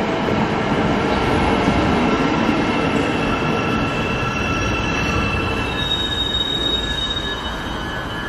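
A commuter train pulls into a station in Wellington, New Zealand, with loud continuous rumble, rail noise and high squealing wheels that hold steady throughout, close and with no talk.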